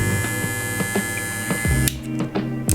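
A TPOB OX hair clipper, fitted with a Faber-type Gamma blade, hums steadily while switched on, giving a continuous close electric buzz that shifts slightly in tone near the end.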